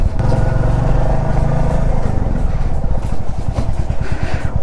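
A motorcycle engine runs loud and close, rumbling steadily, then settles into an even idling putter as the bike is ridden up and parked outside a factory office.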